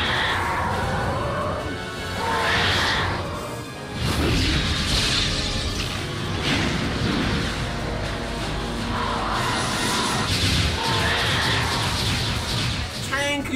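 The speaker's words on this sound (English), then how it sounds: "Tank uses an earthquake and Ace counters with ninja attack" A dinosaur battle in Jurassic World Evolution, Tank the Saichania using an earthquake and Ace the Parasaurolophus countering with a ninja attack, heard as loud continuous rumbling crashes and whooshing impacts with a voice talking over them.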